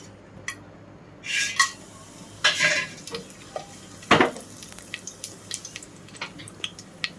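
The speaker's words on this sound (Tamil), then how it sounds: "இப்போ தாளிக்கிறதெல்லாம் போட்டுடலாம்." Tempering spices dropped into hot groundnut oil with ghee in a cooker for mutton kulambu give short bursts of crackling sizzle with metal clatter at about 1.5, 2.7 and 4.2 seconds, then a quieter, intermittent spattering.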